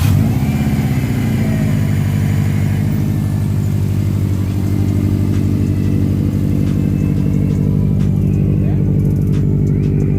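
A Subaru STI with a Stage 2 upgrade idles loudly and steadily close by, a deep, even rumble that holds throughout with faint clicks in the background.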